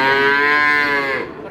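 A cow at a cattle market in Jatirogo lets out one loud, long, close moo that fades at the end, with no talk over it.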